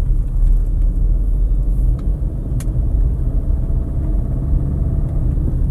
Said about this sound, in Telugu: వెహికల్ రన్నింగ్ కానీ పికప్ కానీ చాలా బాగుందండి.